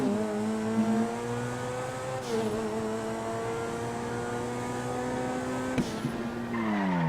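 A car in GTA V launches from a standstill without a perfect start, its engine note rising steadily through the revs with an abrupt pitch drop at each gear change, loud and close, with faint tire noise.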